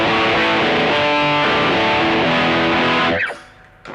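Electric guitar through a TC Electronic Nova Drive overdrive sounds a loud, saturated sustained chord with a strummed change midway, then cuts off with a squealing slide and fades to near quiet.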